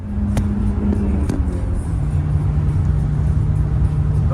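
A drift car with a swapped, tuned 1.2 PureTech engine, said to have a head gasket fault and to run hot, revs hard near the mic, then its pitch drops at a gear change and a steady loud drone carries on.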